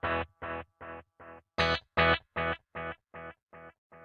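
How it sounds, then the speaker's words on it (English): Electric guitar played through a Headrush MX5 with BBD delay on the Echo Long setting, a run of about a dozen evenly spaced distorted picked notes, each clipped short, loud and close. "I am going to set up the BBD delay, which is one of my favorites, and I'm going to go with Echo Long."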